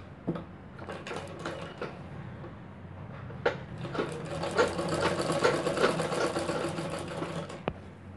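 A sewing machine stitches the front neck of a cup-style princess-cut blouse, running in a steady rapid whir after a few short starts, with clicks and handling knocks between bursts, close and alone.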